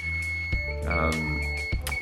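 A smoke-alarm-style electronic alarm sounds in a room with an egg incubator, a steady high tone running throughout with sharp clicks and a louder burst near the middle.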